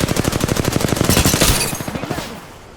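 Rapid automatic weapon fire in the video game Apex Legends, a loud, close burst of evenly spaced shots that rolls on for about two seconds before tapering into a few fainter trailing pops.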